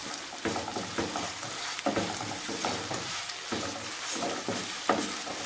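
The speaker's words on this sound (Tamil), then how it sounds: "கல் உப்பு சேர்த்துட்டு நல்லா வதக்கலாம்" Brinjal and peanut masala with rock salt sautés in a pan, a quiet continuous sizzle broken by rhythmic stirring scrapes about once a second, close up and without speech.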